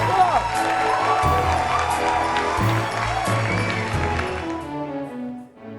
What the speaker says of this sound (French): applaudissez pour elle encore